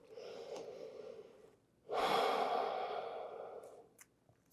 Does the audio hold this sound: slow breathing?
yes